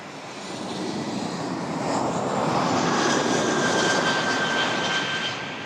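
Jet airliner arriving at Toronto Pearson, engine roar growing louder as it nears, peaking steadily with a thin high whine, then easing slightly; no talk over it.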